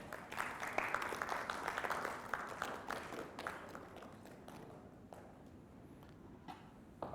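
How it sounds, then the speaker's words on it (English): A crowd applauds a team at a corporate team-building seminar in a hotel event space, steady dense clapping that is loud at first and then thins and fades toward the end. "Give the Lions a round of applause."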